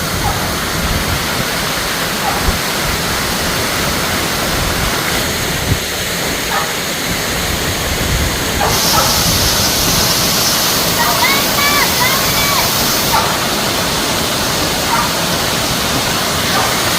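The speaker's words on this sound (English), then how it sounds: "Look at the waterfall." Waterfall at Dinkey Creek, a loud continuous rush of falling water that never lets up, with people talking over it now and then.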